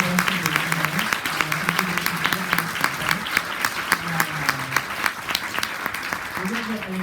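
A bookstore audience in New York City gives a long, dense round of clapping after an author talk, while a person speaks over the applause.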